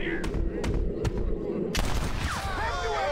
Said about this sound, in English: I shot it three times.